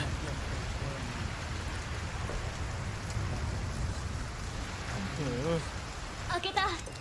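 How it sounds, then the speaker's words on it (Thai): Heavy rain pours steadily as a dense, constant hiss in Resident Evil 4 Remake, with a voice speaking briefly over it near the end. "ฝนตกหนัก"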